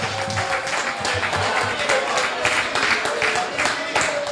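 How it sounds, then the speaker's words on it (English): A crowd at a live show in Gros Islet claps steadily for a birthday, a dense patter of many hands, with a speaker's voice faintly underneath. "A round of applause for Skinny"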